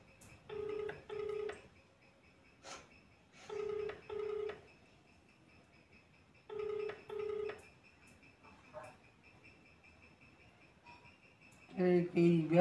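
A telephone call rings unanswered: paired ringback tones repeat in a steady rhythm, heard faintly through a handset, with a brief beep and a louder burst of ringing at the end.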